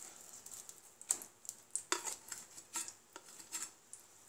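Boiled, mashed green peas are stirred in hot ghee with cinnamon and cardamom in a pan, giving close, irregular clinks and scrapes of a utensil against the metal with no talking.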